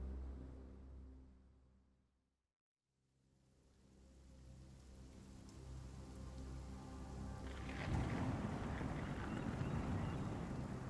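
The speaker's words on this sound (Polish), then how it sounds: "I tą łódeczką sobie płyną." Small boat heading to a lighthouse off Scotland in Sherlock Holmes The Awakened, with a steady wash of water and wind that briefly drops out near the start, then swells louder and rougher toward the end.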